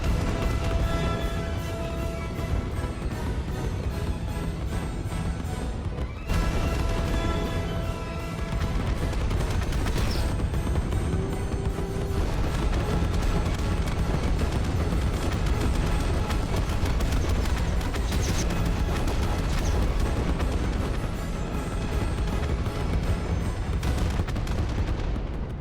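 Massive, continuous explosions and booming blasts tear through a rainforest in the factory-building game Satisfactory, loud and sustained for the whole stretch with dense rumbling and crackling debris, no talking.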